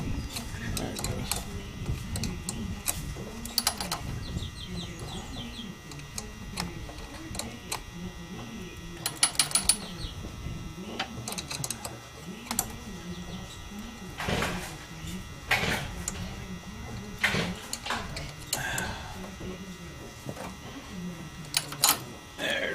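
Wrench working a 5/16 bolt loose on a Ford Ranger 2.3L throttle body: repeated sharp ratcheting clicks and metallic ticks in irregular bursts, close up, with a few louder clacks and some talking in between.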